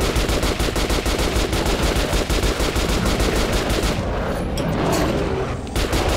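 Rapid automatic gunfire from the video game Metro Last Light, a loud, dense stream of shots lasting several seconds with a brief heavier burst near the end, no voices.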